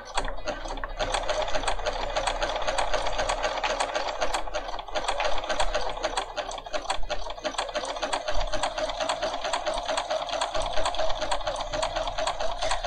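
A Bernina 500 series sewing machine stitching a manual buttonhole zigzag, a loud continuous rapid mechanical whir and needle clatter at close range, steady throughout.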